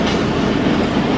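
Marvi Passenger train rolling along rails in Sindh, a loud continuous rumble of wheels and carriages heard close up with no talk.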